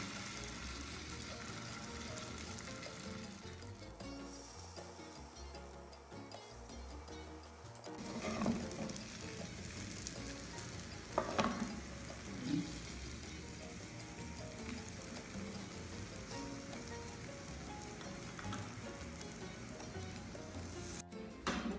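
Squash pancake fritters (kalabasa ukoy) frying in a pan: a steady, fairly loud sizzle of hot oil runs throughout, swelling in brief bursts as batter is laid in, with no talking.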